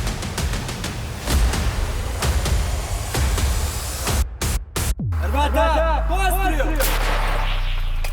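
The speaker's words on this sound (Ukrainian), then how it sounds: "Увага, постріл! Постріл!" A loud artillery gunshot cuts through steady outdoor rumble, followed by a long rolling echo that fades over several seconds.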